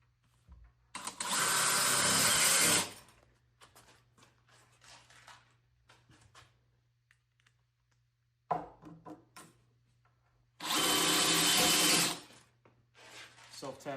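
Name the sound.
drill driving self-tapping screws into whiskey barrel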